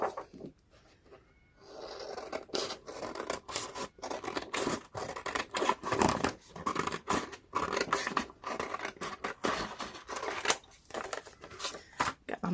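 Scissors snip and trim paper while making a junk journal, a run of close, crisp cuts and rustling paper strokes after a quiet start, with no talking.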